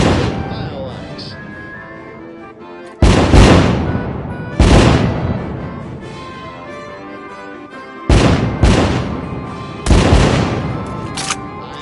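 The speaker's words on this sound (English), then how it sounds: "I'm so glad we have millions in fireworks." Fireworks explode in the American Dream VR video game on PS Pro: five loud, sharp booms spaced a few seconds apart, each with a fading rumbling tail, over a continuous background din.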